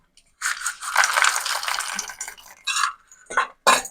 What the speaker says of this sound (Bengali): ভিজানো ছোলাটা দেওয়ার পর এর মধ্যে আমি দিয়ে দেবো ভাজা ছোলা।